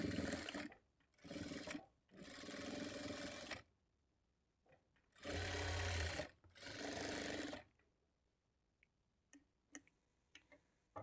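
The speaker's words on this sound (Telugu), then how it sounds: "ఇప్పుడు మరలా పావించి మార్జిన్తో ఇంకొక స్టిచ్ వేసుకోవాలి" Sewing machine stitching a margin seam on a lined blouse, heard in several loud, steady whirring bursts of one to two seconds each, separated by pauses, with faint clicks of fabric handling near the end.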